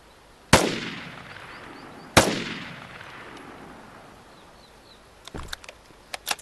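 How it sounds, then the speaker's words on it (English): In the video game Vigor, an M4A1 assault rifle fires two sharp, loud reports a couple of seconds apart, each ringing out with a long echoing tail, then a quicker cluster of fainter shots. "Good rate of fire though, man."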